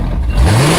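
A carbureted Ford engine revs sharply, a loud close burst of rising exhaust roar that climbs in pitch within a second, with no talk.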